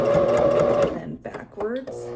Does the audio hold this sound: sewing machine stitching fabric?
yes